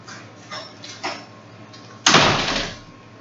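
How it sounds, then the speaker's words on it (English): A few soft knocks and shuffles, then a sudden loud bang of a door slamming shut, its rumble lingering and fading. "Don't slam the door, Bubba."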